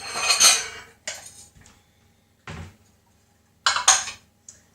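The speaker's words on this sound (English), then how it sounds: "So I'm going to get some bowls" Bowls being taken out and handled in a kitchen: several separate bursts of clinking and clattering crockery, close and fairly loud, with quiet gaps between them.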